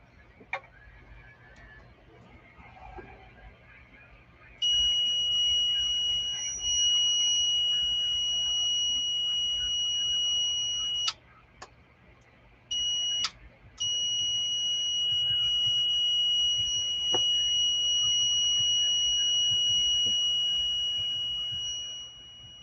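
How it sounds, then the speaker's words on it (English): A BK Precision 2831A digital voltmeter under repair emits a loud, steady high-pitched beep that holds for long stretches, cutting out briefly a few times before resuming, over faint workbench background noise. "find out where that beep sequence is coming from"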